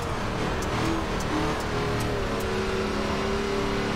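An ARCA stock car in iRacing runs on a dirt track in fourth gear with its engine holding a steady, low-revving drone, loud and continuous throughout.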